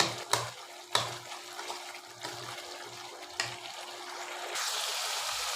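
Garlic, ginger and cumin paste stirred and frying in a pan for chicken curry with egg, a few soft scrapes over a quiet sizzle that swells toward the end.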